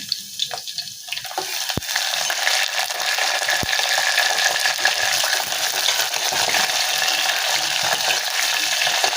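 Garlic paste hits a hot pan and fries with a steady, bright sizzle that holds close and fairly loud after a few sharp clinks and scrapes at the start.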